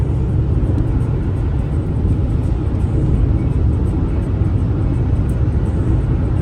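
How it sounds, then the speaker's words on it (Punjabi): Steady, loud broadband rumble of a car moving at high speed, with continuous road and wind noise and no pauses or voices. "120 ਦੀ ਸਪੀਡ ਤੇ ਜਾ ਰਹੀ ਆਪਣੀ ਗੱਡੀ"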